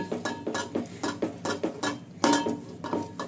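Spices and yogurt being stirred and fried in a pan for Afghani egg korma, with a steady rhythm of roughly a dozen soft scrapes and clinks of a spoon against the metal pan, close and fairly loud, with no talking.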